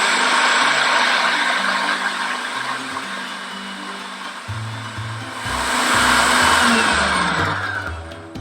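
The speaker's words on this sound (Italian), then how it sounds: "Togliamo la copertura e intanto che frulla mettiamo l'olio a filo." A food processor whirs steadily while blending a vegan onigiri filling as oil is drizzled in, a loud continuous motor drone whose pitch shifts midway and swells again near the end.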